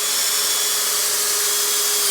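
A Bosch GSB18V-490 cordless hammer drill drives a fastener into wooden decking with a continuous high whir, close and loud, alone without talk.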